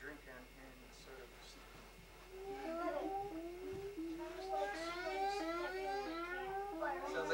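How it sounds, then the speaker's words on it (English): A recorded cat yowls in drawn-out, wavering cries that rise and fall, growing louder over several seconds, with someone speaking faintly underneath. "Sounds like somebody stepping on a cat, Tom said."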